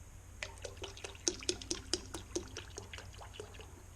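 Purple Power pressure washing concentrate is poured, faint gurgling glugs and drips sounding in a short sequence over a low steady background hum, quiet and close with no talk.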